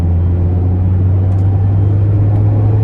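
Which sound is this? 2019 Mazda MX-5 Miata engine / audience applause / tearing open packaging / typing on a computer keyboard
2019 Mazda MX-5 Miata engine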